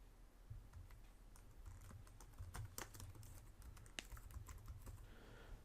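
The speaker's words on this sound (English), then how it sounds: "And then I can type in the text." Typing text on a computer keyboard, a quiet, irregular patter of key clicks heard close up at low level with no talking.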